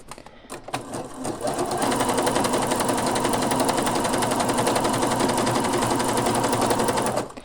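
Household sewing machine stitching a flower decor pattern on jersey knit fabric with a jersey needle, a steady rapid mechanical whir running continuously and close for most of the clip after a short start.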